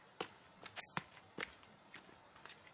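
Footsteps run in the video game The Forest, about a dozen soft, uneven thuds spaced through the stretch, fairly faint and heard alone.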